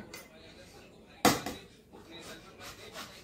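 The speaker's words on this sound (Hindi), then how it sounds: "तो गोभी को घिस लेती हूँ मैं" Cauliflower rubbed against a hand grater in a home kitchen for parathas, one sharp scrape followed by softer rasping strokes, close and fairly quiet.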